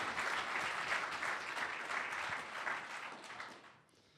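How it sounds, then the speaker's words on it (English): A conference hall audience at a cybersecurity summit applauds after a keynote speech: a fairly faint, even wash of clapping from many hands that fades away over the last half second. "Let's give him a round of applause,"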